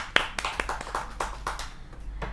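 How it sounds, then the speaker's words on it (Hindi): Scattered claps from a small audience at a Hindi poetry gathering, a handful of distinct, uneven hand strikes spread out over a couple of seconds rather than a full ovation. "एक बार जोरदार तालियां हो जाए"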